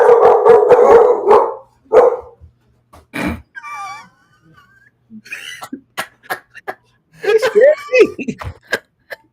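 A dog barks, yelps and lets out a rising, wavering howl close by in a home, in short irregular bursts with pauses, while people talk around it.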